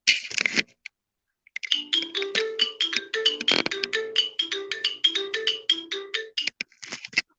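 Keyboards opening a song, played back from a recording: after a brief burst, bright bell-like synth notes run in quick repeated patterns over a steady lower bass line, clear and alone.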